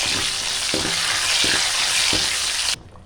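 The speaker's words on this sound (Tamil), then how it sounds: "ரெண்டு காஞ்ச மிளகாய் வந்து எடுத்துக்கணும் எடுத்துட்டு பொறிஞ்சி வந்ததுக்கப்புறம் சேர்த்துக்கணும் கூட கருவேப்பிலையும் சேர்த்துக்கணும்" Two dried red chillies and curry leaves frying in hot oil for a coriander-leaf sambar tempering, a loud, dense, continuous sizzle with a few soft stirring knocks before it cuts off.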